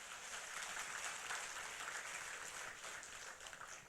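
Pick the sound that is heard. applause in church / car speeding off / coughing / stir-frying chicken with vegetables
applause in church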